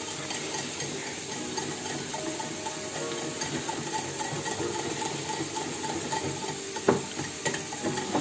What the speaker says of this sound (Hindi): और ये जो आटा है ये थोड़ा सा डालना है आपने, तकरीबन 3 चमचे डालने हैं। इसको मिक्स करें।